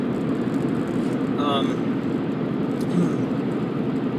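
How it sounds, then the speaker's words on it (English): Road traffic passing through a small unincorporated village on a drive between Naselle and Ilwaco, Washington, a continuous loud low rumble of vehicles heard from inside a moving car, with an engine tone rising briefly near the middle. "The traffic through the village is pretty loud, especially being next to the library."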